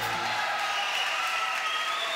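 A French television studio audience applauds, a dense, even wash of clapping held at a steady level throughout, with no voices breaking through.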